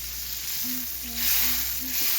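Tomatoes for a spaghetti sauce fry in a hot pan and are stirred, giving a steady, close sizzle throughout. A few soft, short scraping tones from the stirring recur at a regular pace over the hiss.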